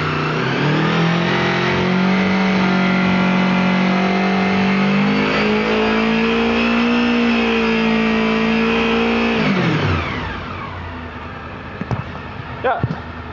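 A Honda VFR motorcycle engine held at high revs around 5,000 RPM with a rattle, droning loud and steady, then dropping sharply back to idle with a few sharper knocks.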